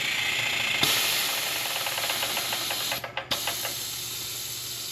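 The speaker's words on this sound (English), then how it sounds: "I'm going to bleed off all the air" Air hisses out of a shock being bled on a 2025 Husqvarna TX300 during a suspension service: a steady close hiss with a sharp click, then a short run of rapid ratcheting pulses near the end.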